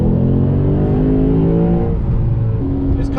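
A Lexus RC F accelerates on a freeway, its engine droning loud and close from inside the cabin, pitch climbing steadily through the gear with road roar beneath it, no talk.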